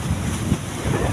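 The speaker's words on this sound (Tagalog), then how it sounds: "ang hangin na humahampas sa amin ngayon dito ay northwest monsoon" Strong northwest monsoon wind buffets a fishing boat at sea, a loud, steady roar of gusts battering the microphone over the rumble of the water.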